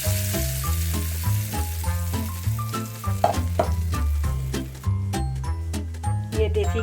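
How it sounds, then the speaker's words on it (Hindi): Cumin tempering sizzling in hot desi ghee poured over chana daal, a steady crackling fry under a prominent bed of tonal music with deep bass notes throughout. "ये इसके ऊपर ज़ीरे वाला तड़का लगने लगा है देसी घी का।"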